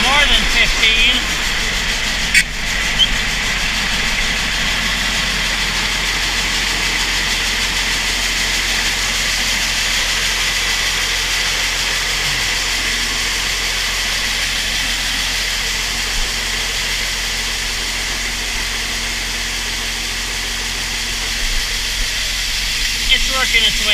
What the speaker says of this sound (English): Sounds like we got the auger filled up.